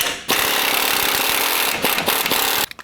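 An impact wrench rattles loudly and continuously with a 21mm socket, removing a nut from the lift-kit hardware on a 2019+ Chevy/GMC 1500 pickup, with brief stutters near the end before it stops.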